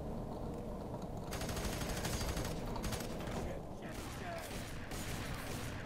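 Dense, continuous enemy gunfire in the video game Fear 3, rapid automatic bursts and fusillades layered over one another, loud and close throughout with no talking.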